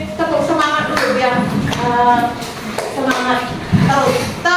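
A school class does a rhythmic 'tepuk semangat' routine, with patterned group claps mixed into loud chanting voices of children and a teacher close by.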